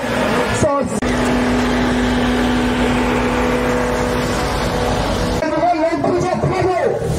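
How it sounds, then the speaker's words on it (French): A huge American-built engine runs loud and close in a rally vehicle, holding a steady roar before revving and shifting near the end. "Écoutez-moi ça! Ingénierie américaine, moteur énorme, c'est le plus gros moteur qu'on ait ici en ce moment."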